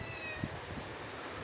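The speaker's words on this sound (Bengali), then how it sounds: "আমার বিড়াল মিউ মিউ মিউ মিউ করতে থাকে খালি" A pet cat meows once, short and faint, followed by a weaker second meow, set against a steady hiss of monsoon rain in the hills of Bandarban.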